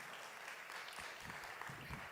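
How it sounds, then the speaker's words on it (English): Applause from an audience honoring the Mohegan tribe hosts at a business gathering, a steady patter of many hands clapping at moderate, slightly distant level throughout. "A nice round of applause for the folks at Mohegan."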